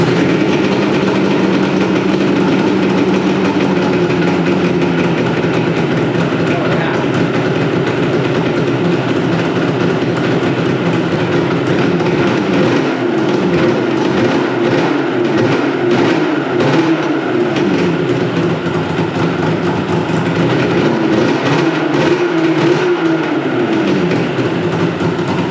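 Snowmobile engine, plugs freshly cleaned and choke on, running steadily after a pull start; a continuous loud droning rumble with wavering pitch fills the whole stretch, no voices.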